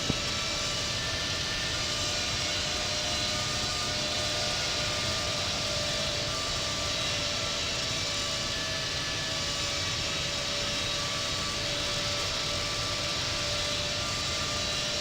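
A jet airliner takes off from a runway at Amsterdam Schiphol airport, producing a steady, loud engine roar with a high whine that holds for the whole stretch, with no voices.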